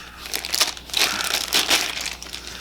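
A knife in a plastic bag is pulled out of its box, producing loud crinkling and crunching of plastic in several bursts, close and with no talk.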